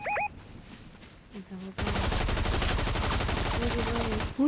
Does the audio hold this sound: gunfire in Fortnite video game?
yes